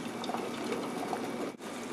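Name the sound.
boiled eggs put into ice cold water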